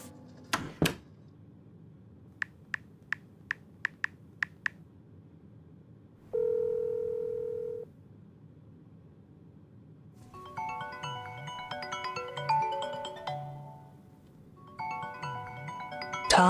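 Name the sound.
telephone dialing and ringing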